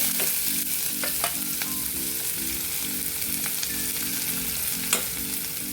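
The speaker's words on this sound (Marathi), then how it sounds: "लसूण घालूया फक्त थोडासा कांदा घालू त्याच्यात" Garlic and onion sizzle steadily in hot oil in a pan for a leafy vegetable dish, with a continuous close frying hiss, occasional spoon stirs and scrapes, and a low rhythmic background hum.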